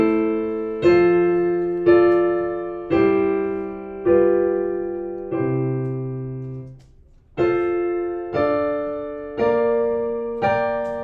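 Piano plays a slow chord progression from a group piano method for adults: about ten sustained block chords, evenly spaced, each left to ring and decay, with a brief pause midway; near and clear, no talking.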